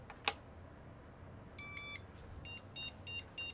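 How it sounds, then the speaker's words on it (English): A 486 motherboard after Varta battery damage repair, giving VGA error POST beeps: a sharp click, then a long electronic beep followed by three shorter beeps in a quick pattern, faint and alone. "We got beeps. I think that was VGA beeps."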